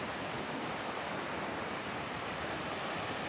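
Steady, continuous surf noise at Karwar beach with a broad wash of crashing waves close by, no distinct breaks between them and no voices.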